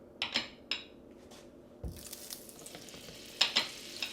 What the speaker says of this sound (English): we're going to put about 2 tablespoons of olive oil. And we're also going to put about 2 tablespoons of butter.